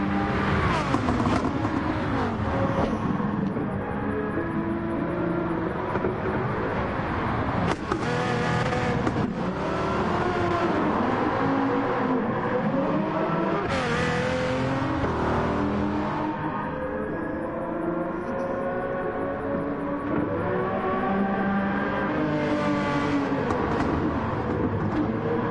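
A Jaguar XJ220 V12 race car in Gran Turismo 7 during a 1990s vintage endurance race at Le Mans, with a loud, sustained engine roar and rising and falling revs as cars pass, continuous throughout with some voice underneath.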